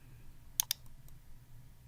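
Two quick, crisp computer mouse clicks close together on a quiet desk, followed by a couple of fainter ticks, while installing apps on a computer.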